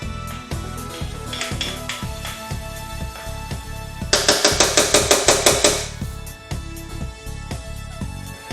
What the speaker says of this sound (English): now we're going to combine the wet and the dry mix together